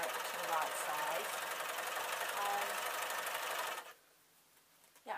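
Overlocker stitching a rolling hem on stretch jersey fabric for skater shirts, a steady fast mechanical whirring hum close up that runs for about four seconds, then stops abruptly into near silence before a brief noise at the end.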